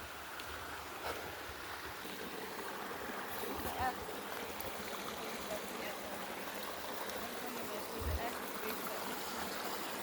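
Creek water flows steadily outdoors beside a patch of stinging nettles, a continuous broadband rush with light wind across the microphone and a few faint knocks.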